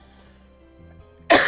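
One sharp, loud cough bursts out near the end, after a stretch of near-silence with a faint low hum.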